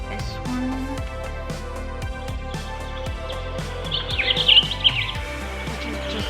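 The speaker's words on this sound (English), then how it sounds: "which is just birds and nature" Birds chirp and tweet in a nature sound recording, with repeated short calls over a steady background, a brighter burst of song near the end, and no voices.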